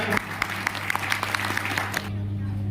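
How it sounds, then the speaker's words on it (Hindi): Applause from an audience at a seminar in Sirathu, Kaushambi: brisk, fairly close clapping with distinct individual claps for about two seconds, then stopping abruptly under a steady low hum. "एक बार सीडीओ साहब के जोरदार ताली है"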